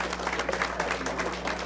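Applause from a workshop audience for panelists at an emergency alerting event, a fairly quiet, even patter of clapping from a modest crowd, steady for the whole stretch with a low hum beneath.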